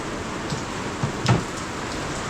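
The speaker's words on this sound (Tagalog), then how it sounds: "Umulan." Steady rain pours down on a farm, a continuous broadband hiss with a brief soft thump midway, fairly close and with no voices.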